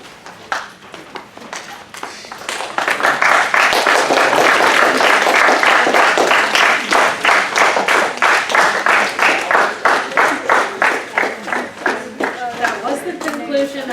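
A debate audience breaks into applause after a speech, swelling from scattered claps into loud dense clapping, then thinning into rhythmic individual claps near the end, with voices chattering underneath.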